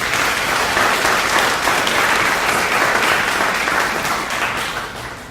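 Steady, loud applause from a seated audience welcoming panel members at a Q&A session, many hands clapping continuously and fading slightly at the end.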